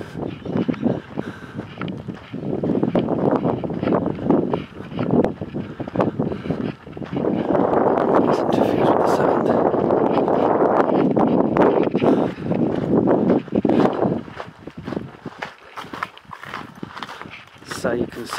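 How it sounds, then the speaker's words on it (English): Wind gusting across the open stone ruins of the Royal Mint area at Hampi, buffeting a nearby microphone in strong surges, with someone talking through much of it. "Just want to keep out of this wind."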